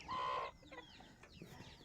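Faint sounds of young Parla roosters: a short clucking call at the start, then soft scattered clucks and rustling in the background.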